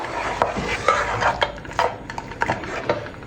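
Food being stirred in a pot, with a run of irregular scraping and knocking strokes of a utensil against the pot over a faint background hiss, fairly close.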